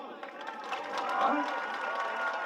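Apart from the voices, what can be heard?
crowd applauding and cheering at event opening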